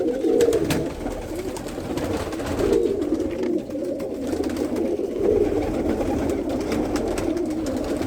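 Pigeons in a breeding loft, repeated soft throaty cooing from several birds close by, rising and falling in gentle waves over a steady background murmur.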